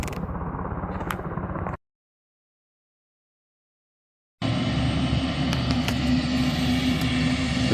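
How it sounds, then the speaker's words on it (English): A loud, close helicopter engine drones steadily, breaks off into a few seconds of silence, then resumes just as strongly. "It looks like the sheriff's department sent a helicopter out"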